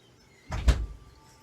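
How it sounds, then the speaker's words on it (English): A bedroom door swings shut indoors, giving a single soft thud with a brief rattle, close by and quiet against a still room. "I'm just going to close my door"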